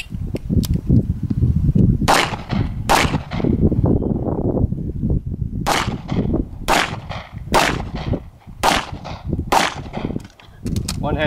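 Gunshots ring out at a sandpit shooting competition in Antrim, about seven sharp, loud cracks spaced a second or so apart, with voices and range noise continuing underneath.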